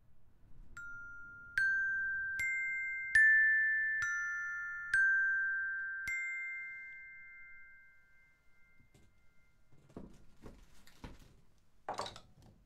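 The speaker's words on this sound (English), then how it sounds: "I think my little xylophone is quite nice to make a starry sound." A small xylophone struck in a slow sequence of about six bright, ringing single notes that hang and decay cleanly, played for a starry, twinkly effect in a quiet room, followed by a few soft bumps and a short rustle.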